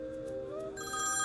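A phone rings with a melodic electronic ringtone, its tonal notes rising and brightening partway through, fairly quiet and alone.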